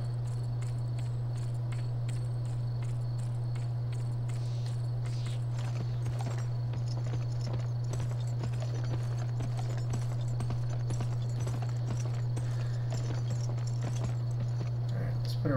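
Rhythmic clip-clop of horse hooves walking at a steady pace in a video game, with faint crickets and a constant low electronic hum underneath.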